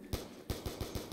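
Several sharp gunshots from a no-scope sniper rifle in a Zombies video game, five quick reports in a loose rhythm, each a punchy crack with a low thump, fairly loud and close.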